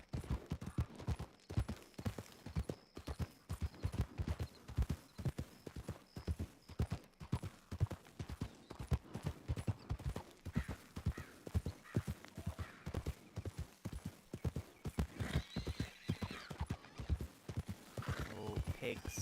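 Steady rhythmic clip-clop of horse hooves in a misty video game world, with repeated neighs and whinnies breaking through over the continuous trotting.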